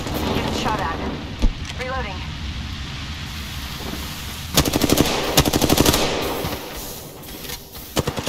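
Automatic gunfire in the video game Apex Legends, sustained rattling bursts that grow louder midway and end in a few sharp shots, under continuous game noise.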